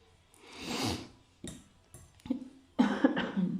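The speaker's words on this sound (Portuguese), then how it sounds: "Peço desculpa, com alguma tosse." A few harsh allergy coughs in close succession, the last bursts louder and more clustered, with short quiet gaps between them.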